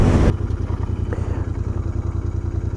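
Royal Enfield Interceptor 650 motorcycle riding near the Malvern Hills, a steady mid-pitched engine drone with pulsing exhaust beats, loud and close, after a brief burst of wind rush at the start.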